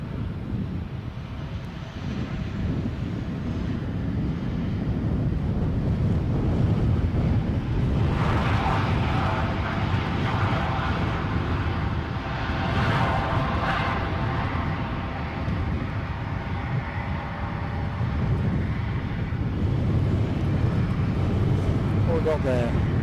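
An Air France HOP airliner rumbles at Edinburgh airport, a steady broad engine roar with wind buffeting, rising slightly in the middle as it moves; a person talks over it.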